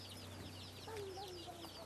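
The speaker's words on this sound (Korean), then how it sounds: "아, 병아리들도 있네요." Chicks and chickens in a Hmong village house in the Vietnamese mountains, with several thin chirps and clucks rising over a steady low hum, fairly faint and close by.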